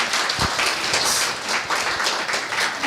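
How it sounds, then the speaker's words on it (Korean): Audience applause at a Korean stage concert of baroque music, a dense steady wash of many hands clapping together for about three seconds, moderately loud and without any talking. "박수 한번 부탁드리겠습니다."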